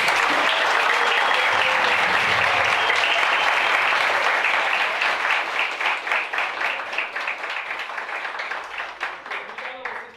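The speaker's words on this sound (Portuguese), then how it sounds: "Salve de palmas aqui" Applause from an audience at a candidates' school event for a professor, loud and continuous at first, then breaking into rhythmic synchronized clapping that gradually fades, with faint voices underneath.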